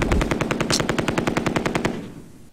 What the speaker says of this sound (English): He's got his stupid machine gun.